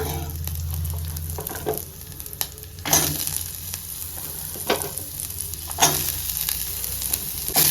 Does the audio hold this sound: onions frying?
yes